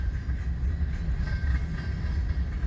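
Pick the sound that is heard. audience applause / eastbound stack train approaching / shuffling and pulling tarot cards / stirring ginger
eastbound stack train approaching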